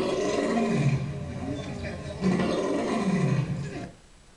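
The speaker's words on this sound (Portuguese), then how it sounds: "Como é que o leão faz?" Two long, rumbling lion roars rise and fall one after the other, fairly loud against a background murmur. The sound cuts off near the end.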